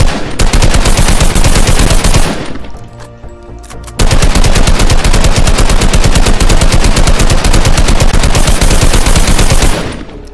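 A Tommy gun fires loud, continuous full-auto bursts, a fast steady rattle. One long burst breaks off for a second or so, then a second long burst follows.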